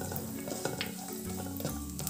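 Raisins sautéing in a pan over a low gas flame, with a soft steady sizzle and scattered scraping stir strokes against the metal, close and continuous without talk.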